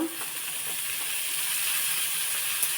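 Onion and tomato frying in a pan for sprouted-bean palya, a continuous bright sizzle and hiss heard close up and steady throughout, with no talking.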